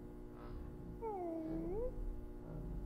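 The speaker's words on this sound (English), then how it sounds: "There's a cat in this video." An animated cat meows once from behind a door, a rising and falling cry that stands out over a low, steady background hum.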